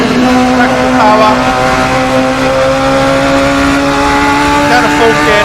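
A Radical SR3 XXR race car in Assetto Corsa drones at high revs, its engine note dropping through quick downshifts and then climbing again as power returns, loud and steady throughout with talk over it.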